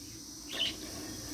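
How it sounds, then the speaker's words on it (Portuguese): A newborn parakeet chick in a nest box gives a single short, faint, high chirp over soft background hiss. "nasceu o segundo periquito."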